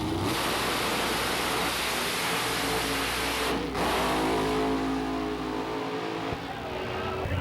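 Drag race at Byron Dragway between a 1969 Chevy Camaro with a 565 cubic inch engine and a Chevy Cobalt, a loud roaring engine blast sustained throughout, briefly dipping midway before surging again with rising revs.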